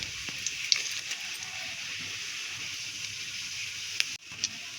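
Whole cumin seeds sizzle in hot mustard oil for a vegetarian ghugni, a steady, airy hiss punctuated by a few small pops and clicks, dipping briefly near the end.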